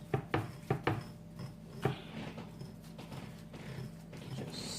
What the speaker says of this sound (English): scoring the meat in a crisscross fashion